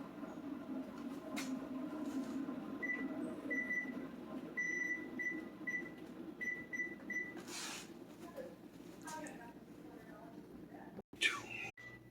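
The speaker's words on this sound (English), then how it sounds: "my beeper's still beeping" A run of short electronic beeps from an oven timer repeats in a steady pattern over a low household hum, then stops.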